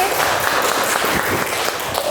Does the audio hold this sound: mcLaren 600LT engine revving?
no